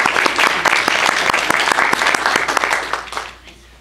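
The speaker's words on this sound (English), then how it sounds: "let's give her a round of applause" A church congregation applauds warmly, many hands clapping in a full, even roar that holds for about three seconds, then thins and fades out near the end.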